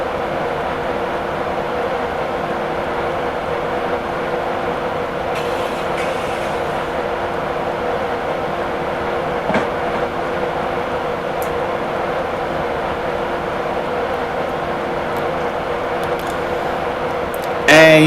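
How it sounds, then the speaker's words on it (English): A Grand Central HST rumbles along the East Coast main line near York in Train Simulator 2017, a steady rolling drone with faint clicks from the rails that holds throughout. "there's a Grand Central HST coming my way"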